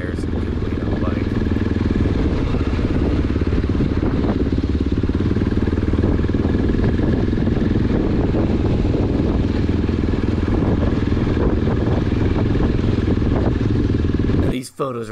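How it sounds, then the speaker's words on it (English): A 2004 Honda XR650L motorcycle rides through sand and rocks on a Utah trail, its engine rumbling steadily with clattering and rattling throughout, while a voice talks over it. "It's just extremely easy to ride this bike through the rocks and all the sand"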